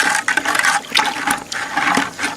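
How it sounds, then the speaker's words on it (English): Chlorine granules being stirred with a stir stick in a bucket of water, giving repeated sloshing, swishing splashes in an uneven rhythm, close and fairly loud with no talking. "Stir stick, and we just keep stirring that"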